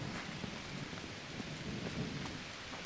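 Steady rain falls in the Garden Life video game, a continuous even patter with low rumbles like distant thunder, no voices over it.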